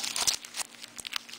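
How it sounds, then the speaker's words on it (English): Aluminium foil crinkles and crumples in quick, close bursts as it is wrapped snugly around a fingertip during glitter nail polish removal, with short irregular rustles and crackles. "just take another piece of your foil and wrap it around."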